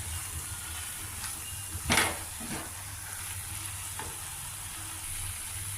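Capsicum curry frying in a pan, with a steady sizzle and a sharp scrape of stirring near two seconds, plus lighter utensil knocks later. Close, fairly quiet, and with no talk.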